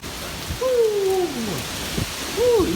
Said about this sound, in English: crazy rain and wind